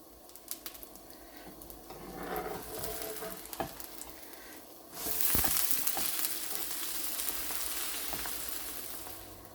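An onion dosa topped with egg, green chilli and pepper sizzles steadily on a hot pan, with a louder burst of frying about halfway through as it is flipped, continuing under faint background noises.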